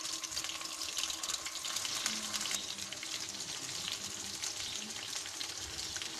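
Fish fries in a pan of oil for a fish fry salan, a steady loud hiss and crackle of sizzling that holds evenly throughout without speech.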